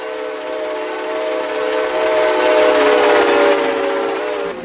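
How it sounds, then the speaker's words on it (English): Santa Fe 3751 steam locomotive in a video game sounding its whistle as it passes, a sustained multi-tone whistle swelling louder mid-clip before fading. "Yep, the train has just passed by into the station."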